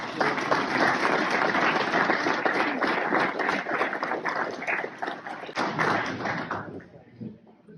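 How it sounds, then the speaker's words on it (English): Sustained audience applause, steady and full, lasting several seconds before tapering off at the end. "So please give all the spouses and significant others a round of applause"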